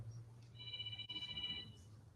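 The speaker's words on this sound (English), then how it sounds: "Somebody's phone was ringing there." A telephone ringing in a council meeting room gives one steady electronic trill lasting just over a second, faint and set against a low background hum.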